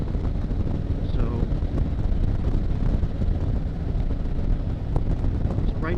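Heavy wind roar buffets a helmet while riding a motorcycle on a highway at about 65 mph, a loud, constant rushing noise that fills the whole stretch.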